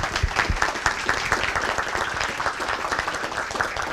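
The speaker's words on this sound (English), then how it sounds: "give your folks a huge round of applause for everything that you've done here this weekend" An audience at a state firemen's association executive committee meeting gives a steady, sustained round of applause, many hands clapping together throughout without a break.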